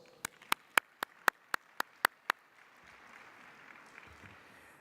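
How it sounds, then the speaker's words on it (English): Delegates at an IPU Assembly Governing Council session give about nine sharp, evenly spaced claps in quick succession, followed by a faint room murmur. "Please let us give them a round of applause."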